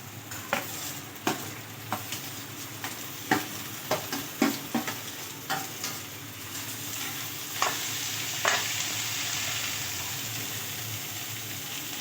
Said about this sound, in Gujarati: 2 મિનિટ માટે આપણે વેજીટેબલને સાતળી લેશું